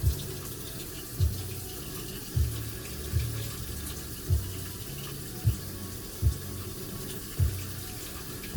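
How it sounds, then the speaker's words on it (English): Hot water pours steadily into a Wonderpokki spicy rapokki instant noodle cup from South Korea, a continuous splashing hiss with soft regular thumps underneath, close by and without talk. "I'm going to add some hot-ish water."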